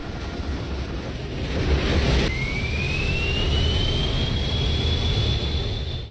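Chinook helicopter in Microsoft Flight Simulator over Alberta, Canada, giving a steady broadband rotor and turbine roar that swells slightly, with a rising whine settling into a sustained high tone, no talk.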